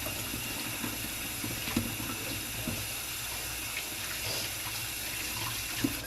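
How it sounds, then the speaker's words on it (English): Tap water runs steadily into a kitchen sink as hands are rinsed mid-way through cooking sesame chicken, a continuous close splashing hiss with small irregular spatters and no talking. "Let me wash my hands real quick."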